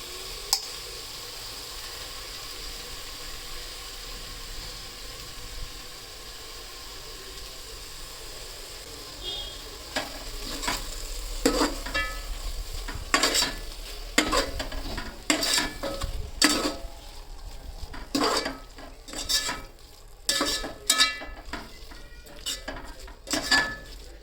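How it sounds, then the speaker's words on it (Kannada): Ground masala paste frying and being stirred in a pan with tomato for chicken dum biryani: steady low sizzle with a run of sharp spoon-on-pan scrapes and clinks that grow busier in the second half, no talk. "ಸ್ವಲ್ಪ ಹಾಗೆ ಫ್ರೈ ಮಾಡ್ಕೊಳ್ಳೋಣ ಮೆತ್ತಗಾಗೋ ತನಕ ಇವಾಗ ರುಬ್ಬಿರುವಂಥ ಮಸಾಲೆನ ಹಾಕಿಕೊಳ್ತಾ ಇದ್ದೀನಿ"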